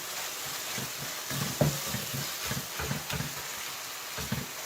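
Tomatoes softening in a pan for a village-style dal dish hiss with a steady, moderate sizzle, with soft periodic stirring knocks throughout.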